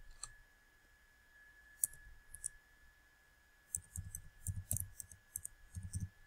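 Computer keyboard typing and mouse clicking, a few isolated sharp clicks followed by a denser run of quiet keystrokes, close and faint with no talk.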